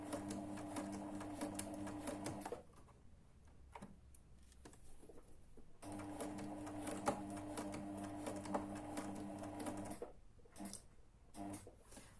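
A sewing machine stitches a recycled skirt in two long bursts of rapid, even needle chatter, with a short pause and a brief restart at the end, heard close and alone.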